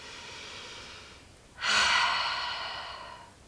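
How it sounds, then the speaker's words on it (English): One deep, slow breath, close and clear, at a beginner's yoga breathwork practice. It swells suddenly, then fades out gradually over about two seconds. "Let's take a deep breath."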